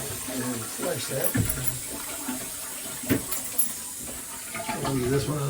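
A toilet in a lodge bathroom flushes with a steady rush of running water, fairly faint, while people talk nearby.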